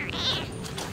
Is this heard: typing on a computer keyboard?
no